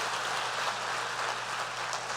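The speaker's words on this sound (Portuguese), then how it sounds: "Dá uma salva de palmas" A church congregation applauds in a sustained, even burst of clapping that fills the room, close and fairly loud, with no talking over it.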